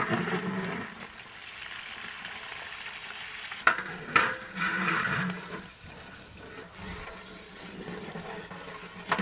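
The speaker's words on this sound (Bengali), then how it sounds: "পেঁয়াজ আর রসুন ভাজা হচ্ছে" Onion and garlic fry with whole spices in a large pan for a village goat feast, steady sizzling mixed with stirring and scraping, a few louder clatters partway through.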